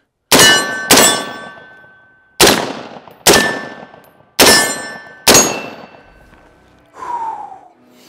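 A DD5V4 AR10 .308 rifle is fired in six loud, sharp shots, two quick pairs and then two spaced ones, each with a ringing decay, followed by a brief fainter tone near the end.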